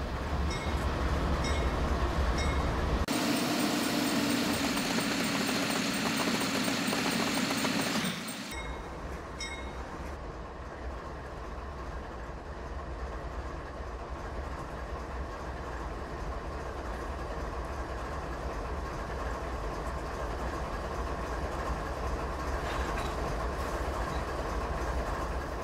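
Train Simulator 2014 locomotive easing backward to couple onto a string of cars, a steady low rumble of rolling rail wagons with faint metallic clinks, loud at first and then a softer continuous drone.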